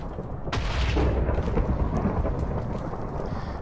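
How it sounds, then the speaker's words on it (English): A sudden lightning strike in the fantasy RPG Vaygrim's Chance cracks sharply, then rolls into a loud, sustained rumble of thunder with rain-like hiss, with no talking over it. "I get zapped by lightning"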